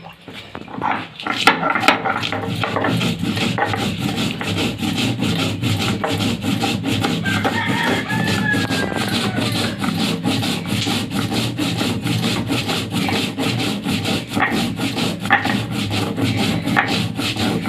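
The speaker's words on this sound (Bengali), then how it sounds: "এই রাঁধুনিটা, কাঁচা লঙ্কাটা, সর্ষেটা আমি বেটে নিচ্ছি" Radhuni, green chilli and mustard seeds being ground on a stone by hand, a steady rasping, rubbing scrape repeating continuously and fairly loud and close, with no talking over it.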